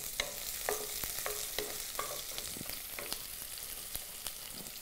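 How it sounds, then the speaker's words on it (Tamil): Mustard seeds, urad dal, chana dal and finely chopped onion fry in a pan, giving a soft steady sizzle broken by scattered small crackles and pops, quiet and without talk. "இப்போ எல்லாம் கடுகு, உளுத்தம்பருப்பு, கடலைப்பருப்பெல்லாம் பொரிஞ்சிருச்சு"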